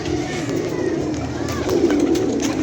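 Several pigeons coo steadily, close and fairly loud, in a pigeon loft of newly trained birds, with soft rustling around them and no clear talk.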